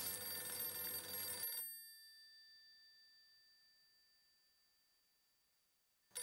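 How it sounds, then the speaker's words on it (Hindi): A telephone rings with a single bright bell-like burst that cuts off abruptly and leaves a long, slowly fading ring tone, with a brief return at the very end. "सिर्फ आपका फोन बज रहा है"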